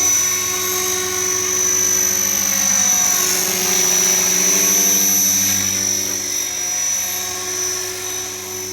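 An Align T-Rex 470LP RC model helicopter flies nearby with a high, steady whine of rotor and motor, its tone shifting slightly as it moves through the air, and no voices.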